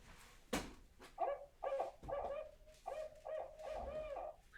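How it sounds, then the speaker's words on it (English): A barred owl gives its rhythmic series of hooting notes, the 'who cooks for you' pattern, in several clear groups of hoots after a sharp opening sound, moderately close against quiet surroundings. "This is the barred owl. This one makes the funnest sound."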